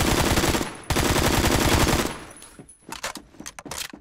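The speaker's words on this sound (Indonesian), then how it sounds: "By the way, AK-74 ini enak banget asli." An AK-74 assault rifle in Roblox Phantom Forces rattles off a loud sustained automatic burst, then a brief pause, a second long burst, and a few scattered sharp shots as the firing tapers off.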